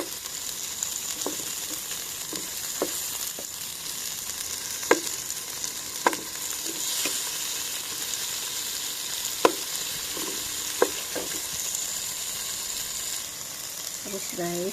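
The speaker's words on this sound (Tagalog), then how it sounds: "lutuin lang natin konti itong kamatis" Tomatoes and cabbage sizzle steadily in a pan for pork sinigang, with a spoon scraping and clacking against the pan at irregular intervals over a constant frying hiss.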